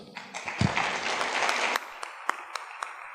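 Applause for a conference panel on operational intelligence and IMMEX compliance practices, a full burst of clapping that thins after about two seconds into a few scattered, separate claps.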